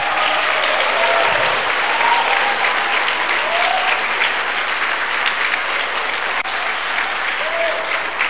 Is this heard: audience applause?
yes